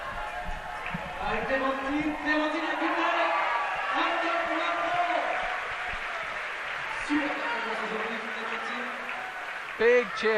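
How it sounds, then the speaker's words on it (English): Crowd at the 2016 IFSC Bouldering World Cup semifinals in Meiringen cheering and applauding for a French climber, a sustained roar of voices with a commentator talking over it. "Big cheer there from the French."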